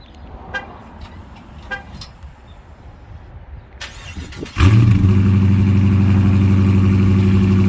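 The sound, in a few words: Dodge Charger V8 engine cold start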